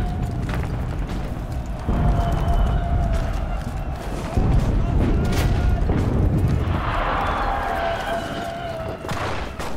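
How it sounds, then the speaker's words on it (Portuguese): Gunfire and heavy booms from a video game fill the clip, a dense, continuous barrage of shots and blasts with a few louder bursts, while a voice speaks faintly underneath. "Caraca, tem muito tiro"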